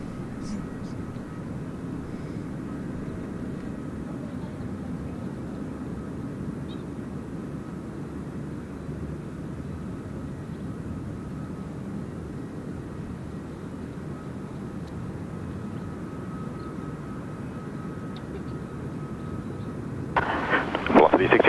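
An airplane approaching to land at Gold Coast Airport makes a steady, distant low engine roar that holds throughout, growing louder and busier in the final seconds.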